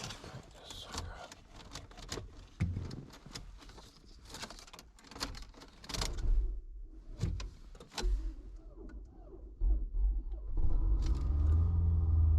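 2007 Toyota RAV4 engine cranking and then starting, rattling clicks and handling noises first, followed by a rising rumble as the engine catches and settles into a loud steady idle at the end.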